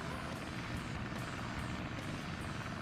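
Propeller plane engine in a Sonic video game, a steady droning hum with a faint rhythmic pulse that holds at constant loudness throughout, with no talk over it.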